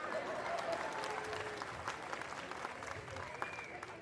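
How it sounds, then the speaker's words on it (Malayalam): A crowd at a live stage comedy performance applauds in a faint, distant, continuous patter, with murmured voices mixed in. "ജനങ്ങളുടെ കയ്യടികളല്ലേ ഈ കാണുന്നത്"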